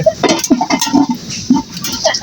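Popcorn is stirred in a pan at home, giving close, uneven clinks and rattles of kernels and utensil against metal in short bursts.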